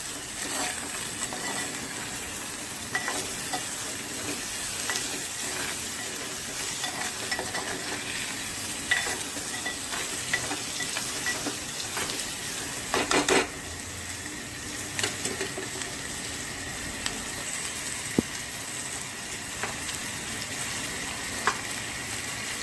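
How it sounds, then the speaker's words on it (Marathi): Onion being sautéed in a pan gives a continuous soft sizzle, with occasional clinks and scrapes of stirring, heard close and with no voices. "कांदा आपल्याला चांगला परतवून घ्यायचा आहे"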